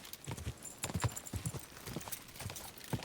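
Horse hooves clip-clop in an irregular, steady rhythm in Kingdom Come Deliverance 2, close and moderately loud, with a faint bright tone running behind them.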